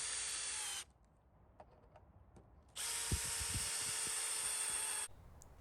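A power drill drives screws into a wooden swing set beam in two sustained high whining bursts, close and loud, with brief clicks and knocks in the pause between them.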